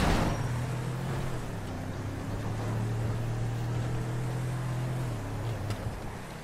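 A video-game car engine drones at a steady mid pitch, holding one note for several seconds before dropping off, fairly quiet with no one speaking over it.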